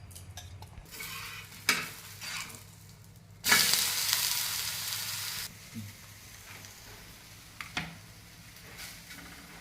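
Food frying and being stirred in a little oil, with utensil scrapes and clinks, then a sudden loud burst of sizzling that gradually settles back to quieter stirring.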